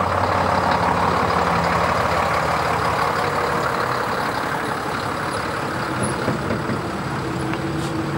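A Foden bulk cement tipping tank truck runs at a 1995 Bloxham parade, its diesel engine rumbling steadily at idle, close and loud, with a constant low drone and no voices.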